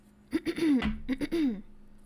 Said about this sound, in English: Sorry about clearing my throat.